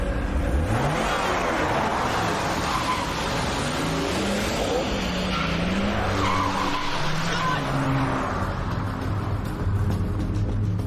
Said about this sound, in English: swerved his car and almost ran up on the curb